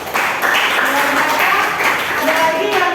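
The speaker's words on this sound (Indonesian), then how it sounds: "Kasih tepuk tangan dulu buat Aidil." Students in a classroom give Aidil a round of applause, a loud, dense burst of clapping that runs steadily for about three seconds, close by.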